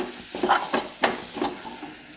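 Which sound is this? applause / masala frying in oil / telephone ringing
masala frying in oil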